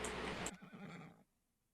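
A horse neighs in an Attack on Titan roleplay video game, a loud whinny at first that fades into quieter trailing sounds and then near silence.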